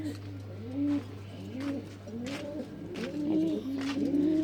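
Pigeons on a rooftop coo repeatedly in soft, rolling phrases as they are fed in the morning, with a steady low hum beneath and no one speaking.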